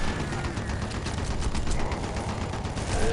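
Dense sustained automatic gunfire in Red Faction 2, a continuous loud rattle of rapid shots with no pauses and no voices.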